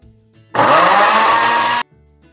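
A kitchen blender whirs loudly for just over a second, blending chicken broth with a bouillon cube for Mexican chicken tinga, starting and stopping abruptly with quiet room tone on either side.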